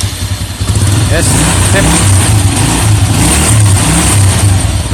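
A motorcycle engine running after being started with a double starter, a steady mid-pitched idle with light revving, loud and close, with someone talking over it.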